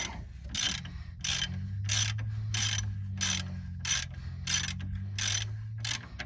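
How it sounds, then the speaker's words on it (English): Rapid ratchet clicks loosen a castle nut on a 1999 Chevrolet Suburban ball joint, coming in steady repeated bursts close up over a low mechanical hum. "so you want to get this castle nut off now"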